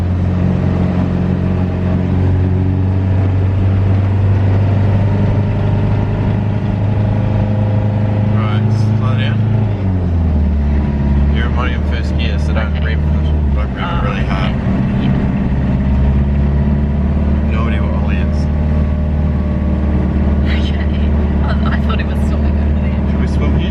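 A manual car creeps slowly along beach sand in first gear, its engine humming steadily with one clear drop in pitch midway, while people talk inside the car throughout.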